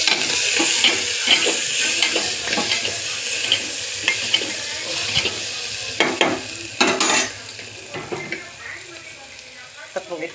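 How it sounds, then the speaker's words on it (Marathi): Turmeric, coriander powder and whole garam masala fry in hot oil in a home kitchen pan, giving a steady close sizzle broken by sharp scraping taps of a spoon stirring through the spices. "मसाले थोडासा फ्राय करून घेऊ"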